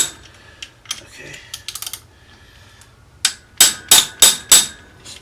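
Quick hammer taps on a bolt during clutch spring work on a 2022 Honda Grom SP, with a scattered run of light metallic clicks followed by four or five sharper, evenly spaced strikes close by.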